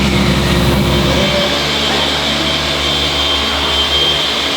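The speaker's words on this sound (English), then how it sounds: "This man also created his own vacuum system for the compound so it doesn't get all dusty." A homemade dust-collection vacuum system in a car workshop runs continuously with a loud, steady roaring whine and a low hum, holding an even level throughout.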